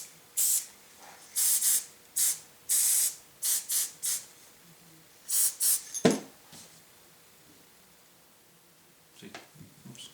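Heavy spritzes from a spray bottle misting a model deciduous tree, a run of short, sharp hissing bursts in an uneven rhythm, close and clear, followed by a soft thump and faint handling sounds.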